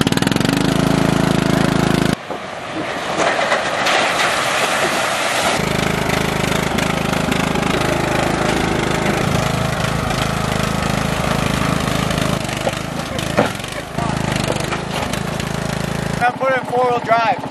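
Engine of a new Honda four-wheel-drive ATV running loud and close, a constant rumbling drone with revving surges and abrupt shifts throughout, while people talk over it.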